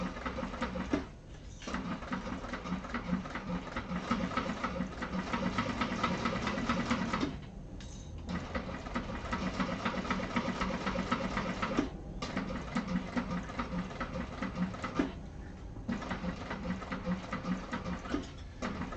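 A sewing machine stitching the curved seam of a Martini bag runs in long, steady, rapid whirring bursts at close range, broken by three brief stops, with no talk over it.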